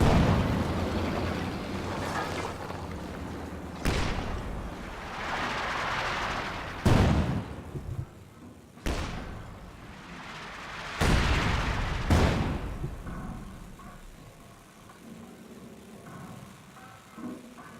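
LeFH 18 howitzers firing in a World War II strategy game: several heavy booming shots spaced a few seconds apart, each a loud blast with a rumbling tail, over a continuous low background din.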